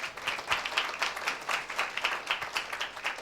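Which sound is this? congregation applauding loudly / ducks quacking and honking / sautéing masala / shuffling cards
congregation applauding loudly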